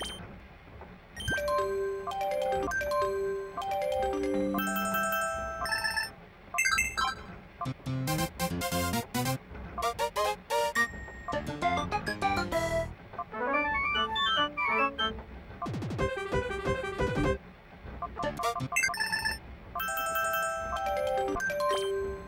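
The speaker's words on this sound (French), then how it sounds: "Et on peut changer la sonnerie aussi." Ringtone options play one after another in the video game Pokémon Colosseum, bright electronic melodic chimes and jingles in short bursts with brief gaps, clear and up front with no speech.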